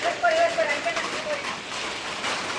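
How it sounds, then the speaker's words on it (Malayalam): Steady rain hiss fills the background, a dense even wash of falling water with faint voices somewhere within it. "നമ്മൾ പോകാൻ ഇറങ്ങിയപ്പോൾ തന്നെ ഭയങ്കര മഴ"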